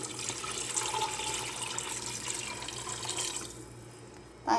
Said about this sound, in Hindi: पानी हम इसमें 1 जग ऐड कर लेंगे।